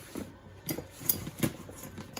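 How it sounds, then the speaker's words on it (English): Scissors are picked up and snipped while trimming a fabric face mask off an embroidery machine, giving a few short, light metallic clicks and clinks close by in a quiet room. "So, grab scissors."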